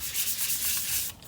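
Sandpaper of 400 grit rubs back and forth over a handmade wizard staff, giving a close, steady, hissing scratch with quick rhythmic strokes and no voices.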